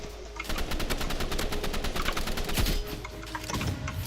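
Rapid automatic gunfire in the video game Blox Fruits, a steady fast rattle of many shots lasting several seconds at moderate loudness, with no talk.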